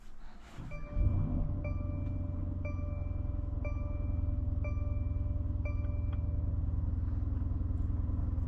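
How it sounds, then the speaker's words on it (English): A 2020 Mercedes-AMG GLC 63 SUV with a 4-liter twin-turbo V8 drives along, its deep steady engine rumble close and continuous after a brief start, with faint tonal chimes sounding at regular intervals. "Today we're going for a drive in this 2020 Mercedes-AMG GLC 63"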